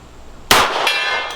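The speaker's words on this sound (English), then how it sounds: "Start with a gong." A .38 Special wadcutter bullet from a Smith & Wesson 52-2 pistol strikes a steel gong at a shooting range: one loud, abrupt metallic clang with a long ringing decay, followed by a faint second ping.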